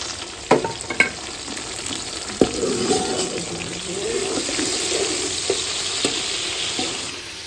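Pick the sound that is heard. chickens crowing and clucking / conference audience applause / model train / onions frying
onions frying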